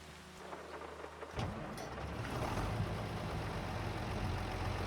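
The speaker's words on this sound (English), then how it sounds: "It is definitely a rainy day." Steady rainfall with rumbling thunder in the Farming Simulator 25 video game, quiet at first and then swelling into a continuous downpour, with no talk.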